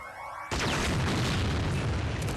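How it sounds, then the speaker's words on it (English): An off-camera explosion effect from a retro-styled animated sci-fi film hits as a sudden loud broadband boom about half a second in, then a dense rumbling roar sustains at full volume to the end, with no voices. "that explosion happened off camera partly because on camera looked weird"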